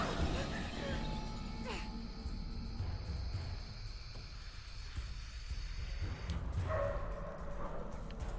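Dogs bark and attack in the Shadow of the Tomb Raider game. The barks and yips are mixed into a dense, constant layer of game noise, with several sharp bursts toward the end.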